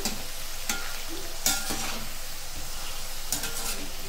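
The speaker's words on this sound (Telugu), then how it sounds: "ఇలా ఫ్రై అవుతున్నప్పుడు లైట్గా ఆయిల్ స్ప్రింకిల్ చేసుకోండి. ఇలా కలుపుతూ ఉండండి, లేకపోతే పొటాటోస్ మాడిపోతాయి." Potato pieces for Aloo 65 sizzle steadily in hot oil while being stirred, a continuous close frying hiss broken by a few brief scraping stir accents, with no voices.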